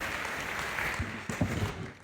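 Applause from an audience at a church breakfast gathering of pastors and leaders, fairly faint and short, with scattered claps that build slightly toward the end.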